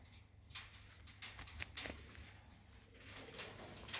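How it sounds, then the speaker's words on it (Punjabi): Pigeons flapping their wings in short faint bursts, with thin chirps scattered between the flaps and low background noise throughout. "ਬਹੁਤ ਚੰਗੇ ਕਬੂਤਰ ਐਂ"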